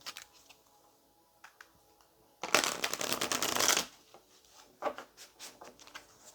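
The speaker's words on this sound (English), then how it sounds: "Let's get one more shuffle for Leo." Tarot cards are riffle-shuffled in a loud flurry lasting about a second and a half, surrounded by softer taps and slides of cards being handled.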